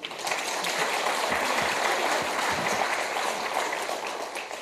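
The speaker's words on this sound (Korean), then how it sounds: "큰 박수로 맞이해 주세요" Crowd applause fills the space steadily for several seconds at a rally marching for the Sewol ferry victims, a dense wash of many hands clapping at moderate distance without speech.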